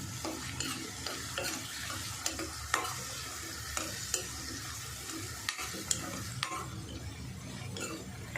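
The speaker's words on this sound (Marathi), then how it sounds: "हिरवी मिरची कोथिंबीर लसूण आणि आलं यांचं हे जाडसर वाटण टाकून घेऊया आणि जरा व्यवस्थित परतून घ्यायचं" A coarse paste of green chili, coriander, garlic and ginger sautés in a pan, a soft steady sizzle with frequent stirring scrapes and light clinks of a spoon against metal, no talking.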